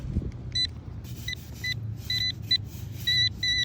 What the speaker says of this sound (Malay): Nah, macam ni dia bunyi besi.